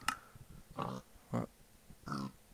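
Minecraft pigs oink in four short, separate grunts spaced about half a second apart, each clear and close against a quiet background, with no talk over them.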